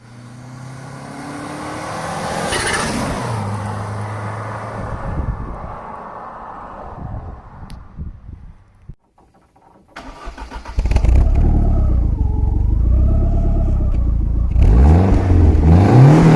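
A Lancia Delta Integrale 16v fires up and revs hard, its turbo whooshing and exhaust roaring loudly up close, with rising and falling engine sweeps toward the end.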